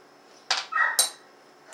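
A dog barks twice indoors in a kitchen, two short sharp yelps close by with a brief whine between, against a quiet room background.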